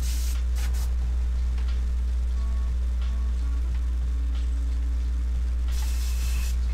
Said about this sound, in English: Prime the airbrush.